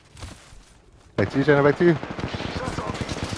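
Gunfire from a match of the battle royale shooter Apex Legends, a burst of loud close shots and rapid follow-up fire, with a player's voice talking over part of it.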